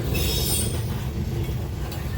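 A BNSF train passes close by on new welded rail with concrete ties near Fremont, Nebraska, making a steady, loud rumble with a high metallic squeal from the wheels throughout.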